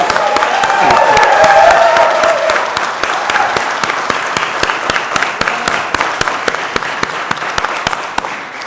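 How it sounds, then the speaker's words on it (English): Students at a NASDAQ closing bell event break into loud crowd applause with cheering, which thins into scattered individual claps by the end. "How about a round of applause, and let's kick it off."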